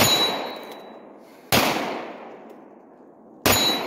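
Three loud gunshots from a CZ Scorpion or Glock 19, fired at a target. They come at an uneven pace, each a sharp close crack followed by a long ringing decay, with no talk in between.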